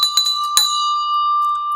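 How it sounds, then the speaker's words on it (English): The stock market's morning opening bell rings in a quick cluster of several loud, close strikes, then a bright metallic tone hangs and slowly rings out alone. "Here it comes, the morning bell."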